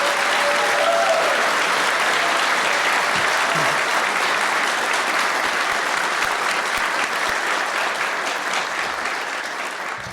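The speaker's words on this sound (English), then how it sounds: "Let's give a round of applause to Captain Michael Sun" Sustained applause from a large audience at a medical school honors convocation, dense and even clapping that holds steady for about ten seconds and eases slightly near the end.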